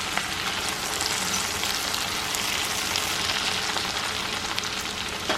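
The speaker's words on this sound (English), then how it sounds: "This is salted butter, so it adds a great flavor to your sauteed vegetables." Vegetables sautéing in salted butter in a pan, giving a close, dense, steady sizzle with faint crackles throughout and no talk.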